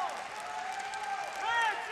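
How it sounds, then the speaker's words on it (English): A crowd at a taekwondo Grand Prix final in Moscow cheers and applauds steadily, with whistles and voices rising near the end, while a commentator talks over it. "Plenty for the crowd to cheer about."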